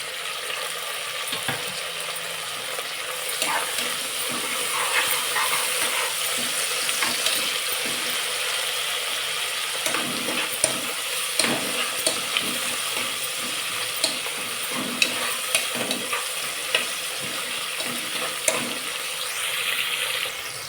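Onions, tomato and green chilli fry in a pan for goat intestine curry, giving a steady, close sizzle with occasional scraping stirs and clinks throughout, without any voices.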